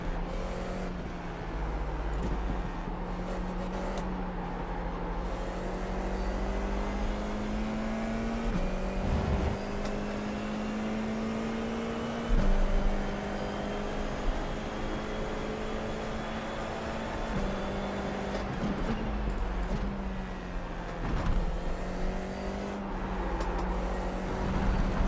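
An F4 race car's engine drones at Rudskogen on a tyre-warming lap in iRacing, a sustained whine that repeatedly climbs in pitch, drops at each gear change, then climbs again, loud and steady with no voices.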